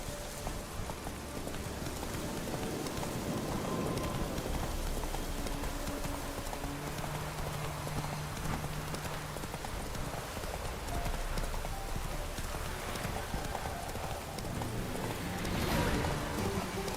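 Roach, the horse in The Witcher 3, gallops in steady rapid hoofbeats under a constant wash of rain-like ambient noise, fairly close and continuous with no speech.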